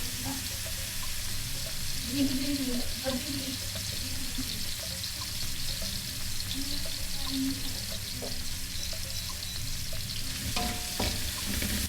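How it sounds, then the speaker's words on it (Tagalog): Lean ground pork sizzles steadily in a hot pan at home, a dense continuous crackle close to the mic with occasional stirring clinks and scrapes, no talking over it. "Nilagay na natin yung ground pork."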